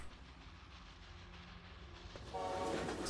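A train in the factory-building game Kubifaktorium rumbles along with a low mechanical drone, then swells louder near the end with a tonal horn-like blast over the rumble.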